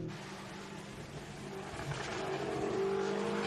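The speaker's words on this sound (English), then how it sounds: "Let's see how the older Subaru plants its way through." An older Subaru rally car driving through a Queensland rally stage, its engine roar and rushing tire noise building steadily from a distance as it approaches.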